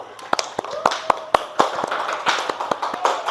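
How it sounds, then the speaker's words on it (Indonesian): Applause from a live audience at an Indonesian coding and artificial intelligence training session, a few seconds of scattered, fairly close hand claps with uneven sharp slaps over a crowd murmur. "Beri aplaus untuk Firman"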